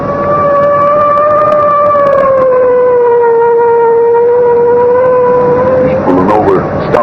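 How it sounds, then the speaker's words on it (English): A loud wailing siren holds a steady, sustained tone, rising and falling slightly, with a brief warble near the end. "I guess it's time to sound the siren."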